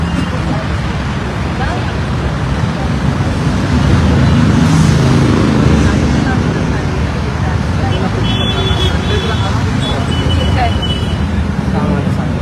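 Dense national-highway traffic at the Navale bridge makes a continuous loud roar of passing vehicles, with engine rumble and tyre noise swelling slightly midway.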